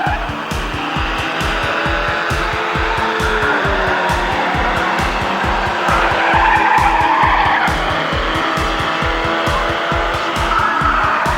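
Formula Ford race cars at Lime Rock Park, one spinning in the S's and tangling with another car: rapid pulsing engine note with tire squeal and skidding, loud and close, continuous for several seconds.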